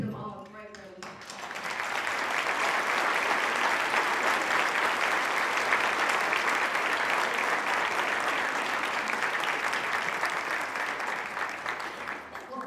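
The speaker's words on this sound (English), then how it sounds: "let's give them all a great round of applause" At a National Philanthropy Day luncheon, a banquet crowd applauds past honorees, the clapping swelling quickly after a brief spoken moment and holding as a full, even round before easing off near the end.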